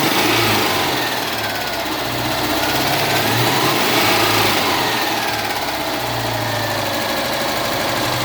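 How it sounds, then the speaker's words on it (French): A Citroën Dyane engine with an ignition problem, running and revving up under the throttle, a steady loud buzzing drone with slight rises in pitch, close by and with no talk. "le moteur prend ses tours, normalement"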